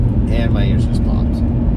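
A BMW X3 engine pulls hard at around 5,000 RPM in second gear, a loud rising drone heard from inside the cabin with a short spoken remark over it.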